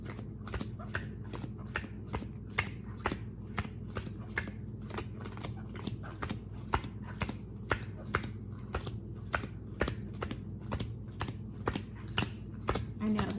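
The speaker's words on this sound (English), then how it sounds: "I'm gonna deal out the cards" Playing cards dealt one at a time into two piles, a steady run of quick, crisp slaps repeating throughout, close up over a low background hum.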